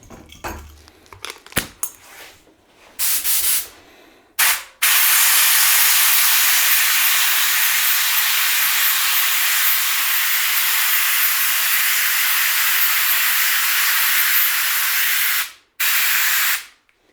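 A pro paint spray gun hisses in a steady, loud, continuous blast for about ten seconds, stops briefly, then sprays again after a few short clicks and shuffles.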